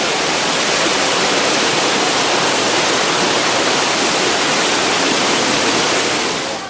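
A small waterfall flows without pause, a close, broad, steady rush of falling water that stays loud and even throughout.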